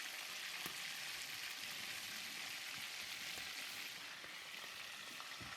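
Sweet and sour pork ribs fry in a pan with a continuous, even hiss of spitting oil and occasional faint pops, steady at moderate distance.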